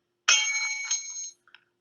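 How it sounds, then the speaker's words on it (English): A small hand bell is rung once up close, giving a bright, sustained metallic ring of about a second, followed by a couple of faint light taps. "Did you buy a fucking bell for this?"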